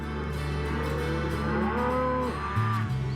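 Bulls lowing on a Camargue bull ranch in southern France, a continuous deep moo with long sustained tones rising and falling, fairly close and loud, with no talk over it.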